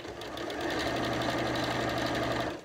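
A sewing machine stitches steadily along a marked line while sewing a thread catcher, a continuous close mechanical whir with fast rhythmic needle ticking that runs unbroken for the whole stretch.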